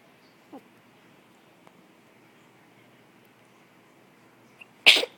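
A single sharp sneeze from a person with hiccups, loud and close, bursting out at the end after a quiet stretch broken only by a faint hiccup earlier.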